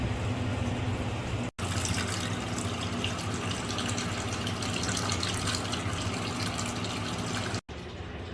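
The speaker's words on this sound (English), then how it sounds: "Time to fill up the sink." Water runs from a kitchen tap into a filling sink, a steady soft gushing stream heard alone at moderate distance, with two brief cuts.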